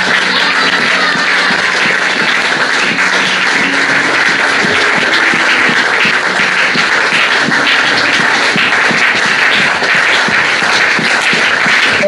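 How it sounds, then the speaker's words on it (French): A church congregation applauds loudly and continuously for Jesus Christ, a dense, unbroken wash of clapping that holds steady from start to finish. "Acclamons plus fort pour Jésus-Christ"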